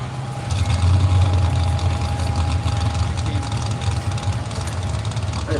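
Engine rumble of trucks at a truck and tractor pull championship in Rockwell, Iowa, a deep continuous low idle rumble with a faint steady whine, heard from a distance amid crowd ambience.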